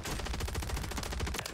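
Sustained LMG fire in Warzone, a rapid, even string of loud close shots with no pauses and no talk.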